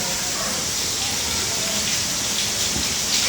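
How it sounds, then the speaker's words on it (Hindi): Steady, fine hiss of light rain falling, even and continuous throughout with no distinct drops standing out. "बारिश है तो हल्की सी, लेकिन भिगाने लायक है, भिगा देगी, हल्की हल्की फुहार पड़ रही"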